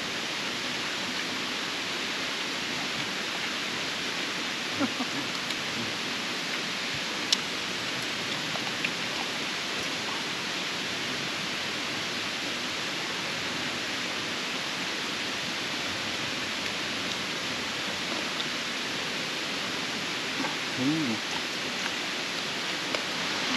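Waterfall at a campsite in Tanay, Rizal, heard as a steady, dense rush of falling water, broad and unbroken from start to finish, with no voices above it.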